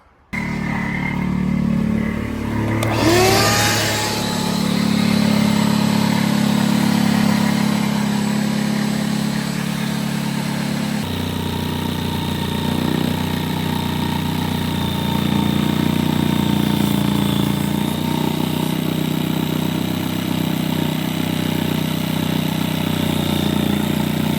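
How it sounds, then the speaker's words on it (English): A vacuum cleaner runs inside a camper van during a sink installation, giving a steady, loud motor drone that holds through the whole stretch with a brief higher whine early on and a slight shift in pitch partway through. "I'm holding the vacuum."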